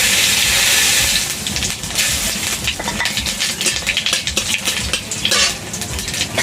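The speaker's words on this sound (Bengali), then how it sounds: "এখন আমি জিরে ফোড়ন দিয়ে দেবো।" Cumin seeds fry in hot oil with dried red chillies already browned, a tempering for mung dal with taro, giving a close, steady crackling sizzle with light spoon clinks and stirring throughout.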